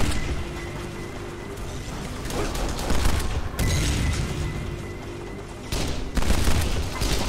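Gunfire from the video game Kane and Lynch: Dead Men rattles in repeated bursts of shots and loud bangs, with a few sharp cracks standing out, all close and punchy.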